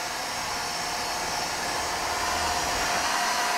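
A cordless vacuum cleaner runs in its eco mode, giving a steady, even hiss-like whir at constant level throughout, close by and with no voices.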